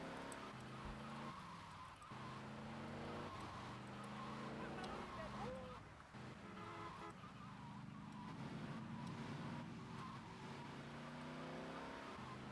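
Engine drone and road noise from a car driving through the streets in GTA Vice City (The Trilogy Definitive Edition), steady and fairly loud, with a short thud partway through as it hits something. A voice talks over it throughout.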